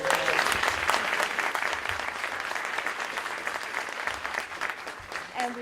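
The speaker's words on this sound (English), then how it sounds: "Please give him another round of applause." A crowd at a public welcome claps for Maryland Attorney General Anthony Brown, a dense, steady roll of applause held at a strong level throughout, with no voice rising above it.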